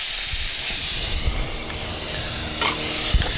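Celery hits melted butter in a hot pan for potato soup, a continuous hissing sizzle with a few light clatters of stirring, close and fairly loud.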